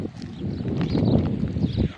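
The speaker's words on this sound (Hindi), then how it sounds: "यहाँ हवा बहुत चल रही है, ये सारा मैदान है इसीलिए हवा चल रही है" Strong wind gusting across an open field in a village, a steady low rumbling buffet on the microphone with a sharper gust near the end.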